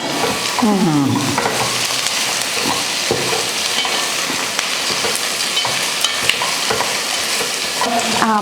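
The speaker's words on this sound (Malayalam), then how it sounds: "അതിലേക്ക് വെണ്ടക്ക ഇടാൻ പോവാണ്" Okra fries in a hot pan while being stirred, giving a steady close sizzle broken by scraping stir strokes, with a few faint voices in the background.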